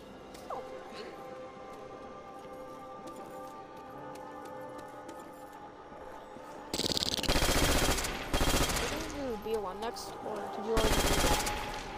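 Machine gun fire in Call of Duty: World at War zombies on the Nacht der Untoten map, with loud rapid bursts in the second half, set against quieter game ambience.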